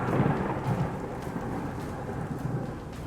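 Thunderstorm with lightning in a tabletop fantasy campaign: a deep rolling rumble of thunder over steady rain, loud and continuous with no voices.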